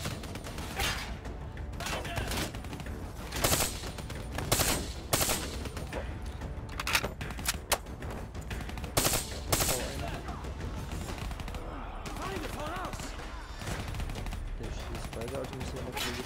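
Automatic weapon fire in the Call of Duty Black Ops video game, loud repeated bursts of machine gun shots and gunfire crackling almost continuously over a dense game soundscape.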